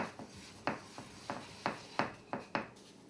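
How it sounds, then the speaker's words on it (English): A scraper knocks and scrapes around a bowl of sourdough dough in a home kitchen, about eight short, distinct strokes in an uneven rhythm, close and moderately loud, with no talking. "Scrape out the bowl."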